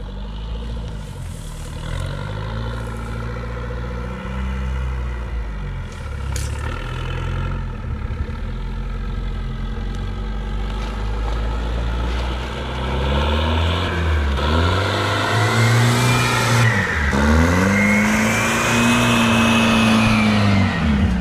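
An off-road 6x6 vehicle's engine drones steadily throughout, rising and falling in pitch as it revs and pulls through peat mud, loud and close.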